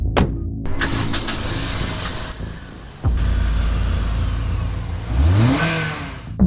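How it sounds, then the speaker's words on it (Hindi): A car engine cranks and catches, idles briefly, then revs hard as the vehicle pulls away, loud and close with a rising engine note near the end. "और गाड़ी स्टार्ट कर दी।"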